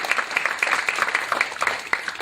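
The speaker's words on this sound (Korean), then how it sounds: "요쯤에서 한 번 더 박수 칠까요?" Audience applause at a book-review lecture concert at an arts center, a short burst of dense clapping filling the room at moderate level, with individual claps standing out near the end.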